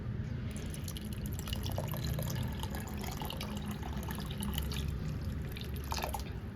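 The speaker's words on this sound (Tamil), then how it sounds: "இப்போ நம்ம தண்ணி வந்து சேர்த்துக்கலாம்." Water is poured into mashed green gram in a cooking pot, a faint, continuous trickle with soft drips throughout and no voices.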